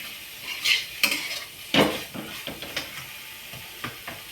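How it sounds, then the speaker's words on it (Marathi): A spoon stirs and presses a vegetable and tomato mixture in a pan, making uneven scraping knocks and thuds over a light sizzle. No one speaks. "याच्यात मिक्स करून टाकायचा दाबून असं हलवून"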